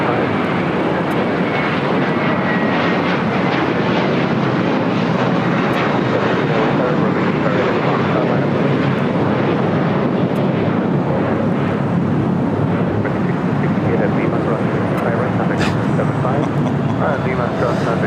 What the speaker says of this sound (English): American Airlines Flight 1541 heading to Cabo, and A321 now rolling down at 25 right